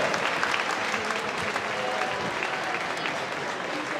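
An audience applauding at a formal ceremony, a thick, steady wash of many hands clapping that holds at an even level for several seconds, with no voices cutting through.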